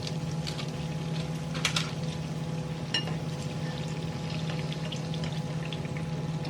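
Donut dough frying in hot oil in a pan, a steady close bubbling sizzle with faint crackles and a few small pops throughout.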